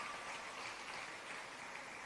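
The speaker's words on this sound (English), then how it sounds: "Another round of applause for our PS," Audience applause for the Permanent Secretary, Sansia Bennett Templar, at an MSME linkages day event, a steady wash of many hands clapping at moderate, distant level for about two seconds with no talk.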